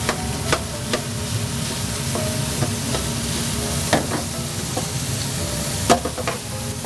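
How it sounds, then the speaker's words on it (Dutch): Diced breakfast bacon sizzles steadily in a pan, a loud continuous frying hiss with intermittent sharp pops and the scrape of stirring, close up and with no talking. "En dat gaan we nu lekker bakken."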